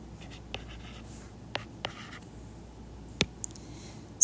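Marker or pen drawing on a board during a math lesson on polynomial inequalities, a handful of short scratchy strokes and taps spaced apart over a quiet room background.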